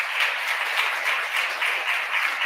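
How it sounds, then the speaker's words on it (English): Steady, close applause fills a Connecticut Kid Governor inauguration ceremony, an even wash of many hands clapping throughout with no voices. "Let's give a round of applause right there"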